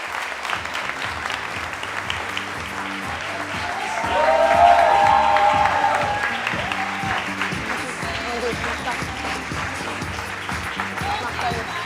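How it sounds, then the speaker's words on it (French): Applause from a fashion show audience for Maud and her models, steady broadband clapping that swells to a louder peak midway, with a voice speaking over it. "On peut encore une fois les applaudir et on les accueille de nouveau"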